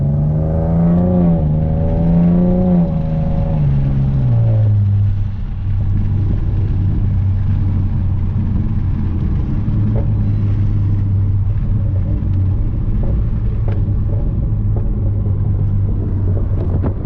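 A 7th-generation Nissan Maxima with newly installed headers revs, the engine note sweeping up and down at first, then settling into a loud, steady, close idle drone that fills the rest of the stretch alone.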